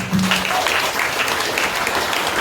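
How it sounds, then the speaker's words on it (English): A question-and-answer audience breaks into applause, a brief, full burst of many people clapping at steady loudness throughout, with a faint voice at the very start. "Let's give a round of applause."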